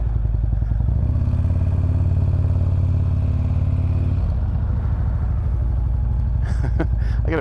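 Engine of a 2013 Harley-Davidson Road King CVO motorcycle, a loud, deep rhythmic V-twin rumble that swells when the throttle is twisted, then settles. Someone talks briefly near the end.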